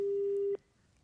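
A telephone busy signal after a dropped call to a phone-line guest on a Hindi news broadcast: one steady, fairly loud tone holds for about half a second, then cuts off abruptly into quiet line noise.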